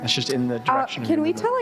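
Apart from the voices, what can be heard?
No distinct noise like a dog, phone or traffic.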